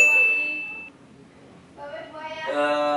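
A bright electronic ding rings out, a tone then a chime-like melody, with music-like tonal layers rising near the end; clear and close.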